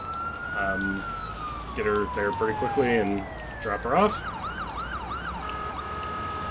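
A wailing ambulance siren sweeps up and down from an ambulance in the video game Ambulance Life: A Paramedic Simulator. It plays steadily under a voice, then continues alone with quick rising and falling cycles.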